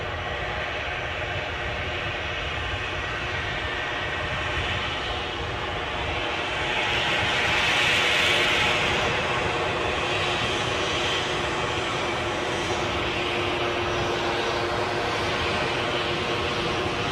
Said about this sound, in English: easyJet on approach